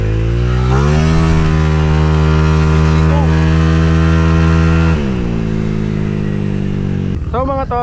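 Honda Click V1 scooter-style motorcycle revving loud and close as it's ridden, a steady engine drone that rises and shifts pitch, then eases off near the end with a brief voice.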